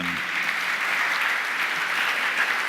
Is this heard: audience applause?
yes